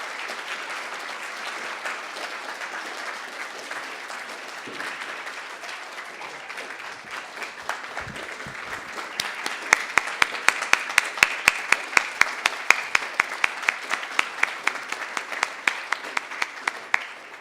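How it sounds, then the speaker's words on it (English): Steady crowd applause for Carol at a people-centered development event, a dense wash of clapping that later thins into a few distinct, sharper claps from nearby hands near the end. "Another round of applause for Carol"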